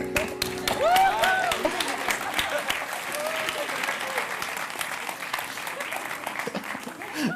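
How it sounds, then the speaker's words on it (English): Loud sustained applause from a large audience at a youth award gala, dense continuous clapping with brief voices and whoops near the start. "Please, huge applause to this team."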